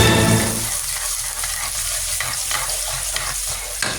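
Garlic frying in hot oil for pancit, a steady broad sizzle with crackling bursts that carries on without pause, close and fairly loud, after a brief low rumble at the start.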